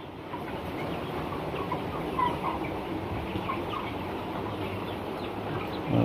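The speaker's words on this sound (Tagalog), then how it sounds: "Yung aking mga broiler chickens, native chickens" Broiler and native chickens cluck together in a shared housing on a small backyard farm, a steady busy flock murmur with scattered clucks throughout, fairly close and without talk.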